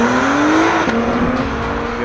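Honda hybrid race car with a 3.5-litre twin-turbo V6, 9-speed gearbox and electric motors, running in track mode: a loud, steady engine note heard close, with a slight dip and a rising pitch as it accelerates.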